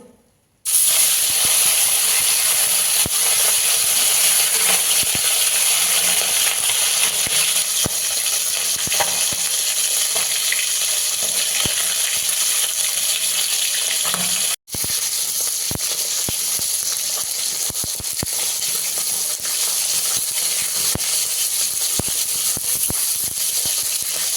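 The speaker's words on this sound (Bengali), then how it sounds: "বাকিগুলো এভাবে ভেজে নেব" Jiol fish fry in hot oil with a loud, continuous, close hiss of sizzling, broken only by a brief cut at the start and another midway.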